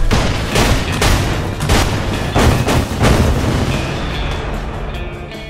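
Repeated heavy explosions and booming blasts as buildings are destroyed in Battlefield: Bad Company, loud and close, coming in rapid irregular bursts about every half second over a rumbling background.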